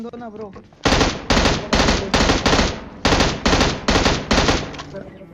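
Automatic-rifle fire from an M16 or MK47 in a battle royale video game, about ten loud, evenly spaced close bursts of rapid shots, with a brief voice at the start.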